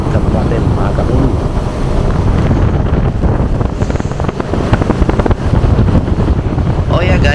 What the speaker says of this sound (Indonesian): speedboat yang saya tumpangi saat ini menggunakan double mesin ya